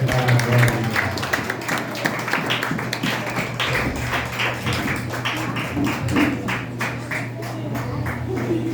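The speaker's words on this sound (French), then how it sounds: "On nous applaudit le Seigneur" A church congregation claps together in steady rhythmic applause, loud and close, filling the room as a sustained patter of many hands.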